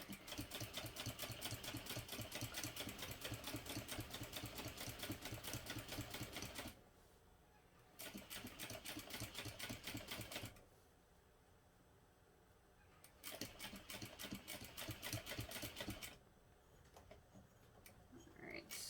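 A sewing machine runs in steady, rapid bursts at a long stitch length while stitching a box shape on a backpack panel. Loud runs stop and start again with short pauses between them, and speech comes in quietly underneath.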